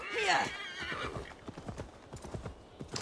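Horse hooves clip-clop at a quick gallop with a loud neigh at the start, from a horse ridden in the Viking-era game Assassin's Creed Valhalla; the hoofbeats continue in a steady rhythm after the whinny fades.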